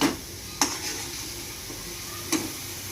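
Cumin, chili powder and turmeric sizzle in a frying pan for a fish dish with potato and pointed gourd, a steady close hiss broken by two sharp utensil clinks against the pan.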